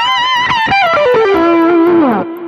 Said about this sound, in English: Lots of delay, lots of distortion.